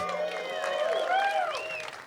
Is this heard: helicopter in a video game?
no